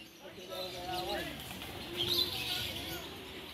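Many birds, including cooing pigeons or doves, chirp and call at a mini zoo in La Union, Philippines, loud and close, with people talking throughout.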